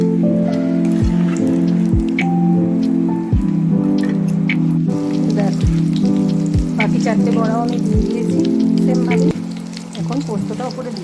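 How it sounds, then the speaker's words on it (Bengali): Pumpkin flower fritters coated with poppy seeds frying in hot oil, a loud, steady close-up sizzle with crackling bursts and a tonal hum running through it. "নিয়ে বাকি 4টেও আবার ভেজে ফেলছি।"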